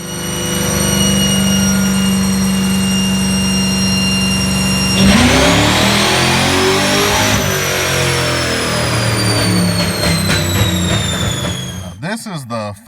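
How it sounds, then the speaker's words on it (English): Ford Mustang engine revving on a dyno pull, a loud steady drone that surges into a rising wide-open-throttle sweep, then drops away sharply near the end; close and dominant. "This is the final pull on the dyno."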